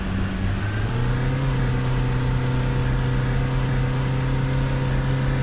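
A bus engine in the Fernbus simulator game holds a high, strained rev, a continuous droning whine with steady harmonics that climbs slightly early on and stays loud throughout, never shifting gear.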